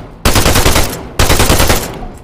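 Two long bursts of loud, close automatic machine-gun fire in a military video game, each a dense rapid stream of shots, separated by a brief pause.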